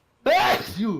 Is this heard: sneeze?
yes